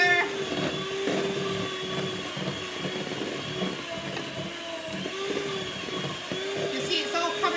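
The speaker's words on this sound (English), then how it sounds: "So we're just going to whisk it till it goes pale." An electric whisk beats a lumpy mixture until it turns pale, its motor giving a steady, fairly loud whirring drone that holds throughout with slight wavering as the beaters move through the bowl.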